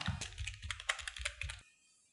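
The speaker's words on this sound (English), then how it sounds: "So I'm gonna type our channel name." Rapid typing on a computer keyboard, a close, quick run of clicky keystrokes for about a second and a half before stopping, with no speech.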